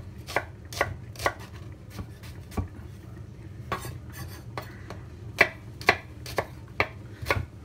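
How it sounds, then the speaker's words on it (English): Vegetables are chopped on a cutting board with a sharp knife for a vegetable biryani: sharp, irregular knife strikes, close and moderately loud, with quieter scraping between the cuts. "Good sharp knife is important when you're chopping vegetables."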